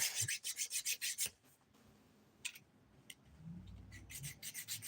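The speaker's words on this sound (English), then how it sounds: "Back to filing. Using my 100 180 grit file here." A 100/180 grit nail file works back and forth over fingernails in quick soft rasping strokes, a rapid burst at first, a pause, then more strokes, quiet and close.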